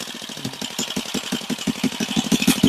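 A new motorcycle idles close by at a tomato farm, its engine putting out a steady, quick pulsing chug that grows slightly louder toward the end.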